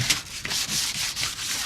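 Sandpaper rubs back and forth across a varnished wooden chair to roughen the finish, a close raspy scratching in several quick strokes with no talking.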